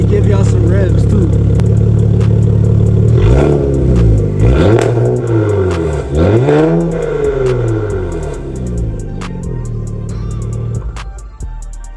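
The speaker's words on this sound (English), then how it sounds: "And I'm about to give y'all some revs too." A straight-piped Infiniti Q50S with lowered downpipes revs hard several times, its exhaust note rising and falling in loud sweeping blips close by before it settles back to a rumbling idle.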